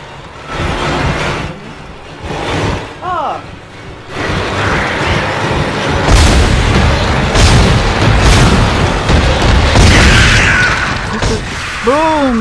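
Heavy booming explosions in the sci-fi horror game Dead Space land several times over a dense, rumbling ambient bed, loud and close, with brief creature shrieks and sparse voices mixed in.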